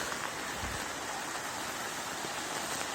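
Steady rain pours down outdoors, water running off newly installed gutters on a walipini greenhouse, a dense continuous hiss with a low rushing undertone and no voices.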